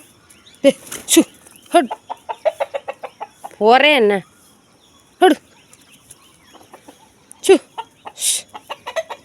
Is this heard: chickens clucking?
yes